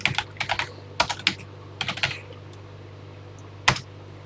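Keys clack on a TI home computer keyboard as a BASIC program is entered, close and crisp in short bursts of rapid taps separated by pauses, over a faint steady hum.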